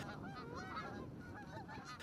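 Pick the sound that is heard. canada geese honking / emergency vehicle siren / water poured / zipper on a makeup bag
canada geese honking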